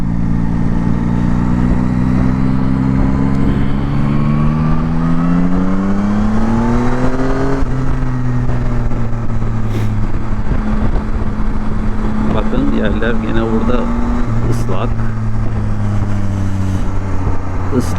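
A Tracer 9 GT motorcycle engine runs loud and steady for the whole stretch, its pitch rising as it revs up, then holding a deep throbbing exhaust note while cruising.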